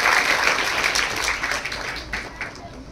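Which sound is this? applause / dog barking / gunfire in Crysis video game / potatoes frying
applause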